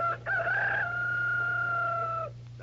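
A voice imitates a rooster crowing, one long drawn-out cock-a-doodle-doo that rises, then holds steady for about two seconds before breaking off, close and alone over a low steady hum.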